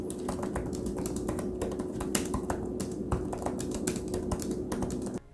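Rapid, steady typing on an iPad 7th generation keyboard case similar to a Surface type cover, with close, crisp key clicks in a continuous rhythm over a faint steady hum.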